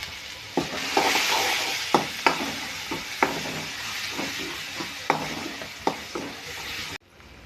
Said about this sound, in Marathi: मसाला आपला चांगला लालसर तळून झालेला आहे.